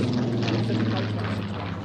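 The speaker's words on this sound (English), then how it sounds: "It is the RollsRoyce Spitfire. And just listen to the Griffin engine." A Rolls-Royce Griffon engine powers a Spitfire in a steady, deep propeller drone that holds level throughout, a continuous low rumble with broad roar above it and no pause.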